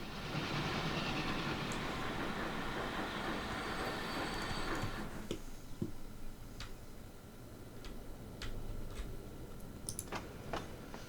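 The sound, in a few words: trains running on rail lines in the video game Transport Fever 2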